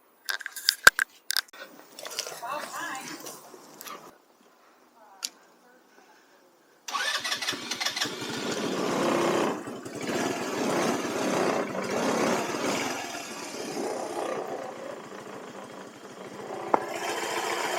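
A cheap $300 off-road buggy engine cranks in a few short bursts, then catches and settles into a steady, fairly loud running drone for the remainder.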